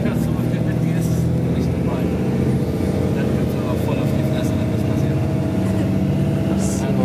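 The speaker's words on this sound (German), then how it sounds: "Schöne Mitfahrt in einem Irisbus Crossweiler Entry." Steady engine drone and road rumble fill the cabin of an Irisbus Crossway LE bus in service between Helmbrechts and Naila, a constant low hum with a faint rattle throughout.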